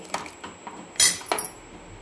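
Dishes clink as black mutton curry is served onto a plate: a few light, close metallic taps, then a brighter double clatter of spoon against plate, with no talking.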